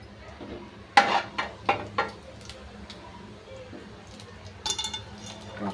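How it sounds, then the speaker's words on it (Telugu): Cumin seeds tossed into a hot pan give a few sharp clinks and scraping stirs, a cluster of metallic knocks early on and another burst near the end over quiet background hiss. "తర్వాత జీలకర్ర వేయాలి."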